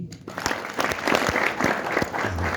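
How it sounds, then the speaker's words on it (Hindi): An audience at a Hindi poetry recitation claps in a few sharp, loud bursts, roughly rhythmic strikes standing out over a busy hall. "आपको आनंद आ जाए तो 3 ताली बजा देना"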